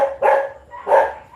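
Dogs bark in two loud, close bursts about half a second apart, with yelps between them, as a scuffle breaks out nearby in the Philippines.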